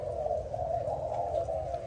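A Malaysian spotted dove gives a continuous low cooing call, quiet and close, with faint background noise around it.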